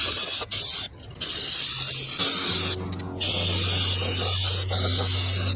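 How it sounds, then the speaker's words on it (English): Brake cleaner is sprayed onto the rear drum brake backing plate of a Honda Accord, a loud, steady aerosol hiss broken by a couple of short pauses between bursts, with a faint mechanical hum underneath. "I'm gonna hit this backing plate and clean this area up with some brake cleaner"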